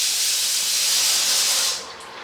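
A fresh batch of eggs for egg Manchurian drops into hot oil, a loud, dense, steady hiss of frying that holds for nearly two seconds and then eases off, with no voices.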